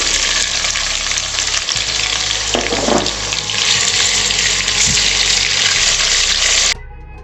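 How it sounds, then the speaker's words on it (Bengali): Small vinegar-marinated boneless chicken pieces fry in a pan with a loud, continuous hiss and sizzle and occasional faint clinks, then the sound cuts off abruptly near the end. "সেটা এবার এর মধ্যে ভেজে নেব।"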